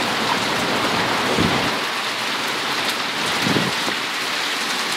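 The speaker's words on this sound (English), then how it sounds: "Love the rain in the desert." Heavy desert rain in Mesa, Arizona during a July storm, a loud continuous roar of rain with two low rumbles of thunder rolling in beneath it, heard from under a shelter with no voices.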